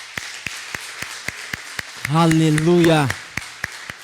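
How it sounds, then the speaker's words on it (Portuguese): A church congregation claps to praise God during a sermon, a steady rhythmic beat of sharp single claps at a regular tempo, briefly interrupted by a voice shouting in the middle. "Você pode dar um aplauso ao nosso Deus?"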